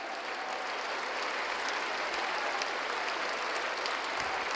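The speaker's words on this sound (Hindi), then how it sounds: "इतनी कमजोर ताली बजाओगे प्रमाण सागर जी महाराज के लिए?" Sustained audience applause for Jain monk Praman Sagar Ji Maharaj at a first Samadhi remembrance day gathering in Bhopal, a steady dense clapping from a large crowd that holds evenly throughout without voices.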